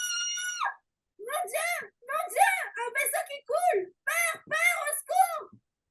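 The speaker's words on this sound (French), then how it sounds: "Ici, on va avoir donc la jeune fille qui va crier." A young girl's screams used as a sound effect while editing audio, several sharp high-pitched shrieks in quick bursts after one sustained opening cry, loud and close with no talk over them.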